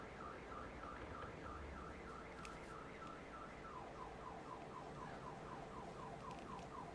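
A siren wails outside at a distance, its pitch sweeping up and down in a quick repeating warble, faint but steady, over a low background hum.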